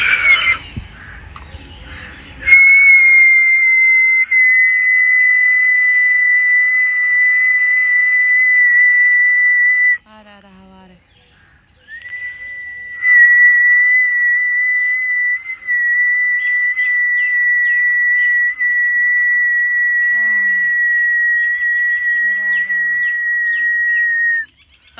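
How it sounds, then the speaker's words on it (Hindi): A person whistles long, steady, sustained high notes close by, two extended held tones separated by a brief pause, with a few faint chirpy bird-like sounds in the background. "तुम भी सीटी बजाओ"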